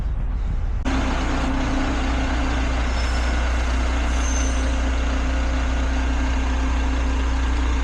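Two trucks pull in and idle nearby, a steady low diesel rumble holding throughout with a faint hiss of air brakes partway through.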